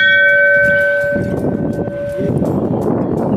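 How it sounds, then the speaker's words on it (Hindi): A metal temple bell at Berinag temple rings with a sustained tone that fades over a few seconds, heard outdoors against strong gusting wind. "घंटा थोड़ा ऊंचाई का था लेकिन बजा ही लिया।"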